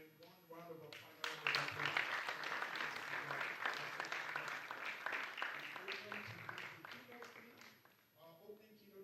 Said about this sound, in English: Ladies and gentlemen, one round of applause.